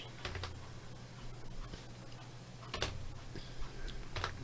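Scattered clicks of computer keyboard keys, a few isolated taps then short bursts of typing, faint and close over a steady low electrical hum in a quiet room.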